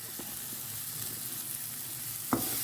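Masala spices frying in a pan while seafood is being cooked, giving a steady soft sizzle throughout with a single brief knock near the end.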